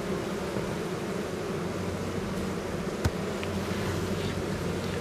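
Honeybees buzz densely at a weak, robbed hive, a continuous close swarm drone filling the background, with one brief tap partway through and no speech.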